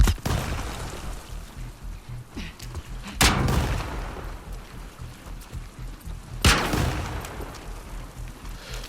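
Gunfire in The Last of Us: two sharp, loud shots roughly three seconds apart, each with a short echoing tail, over a steady low rumbling background.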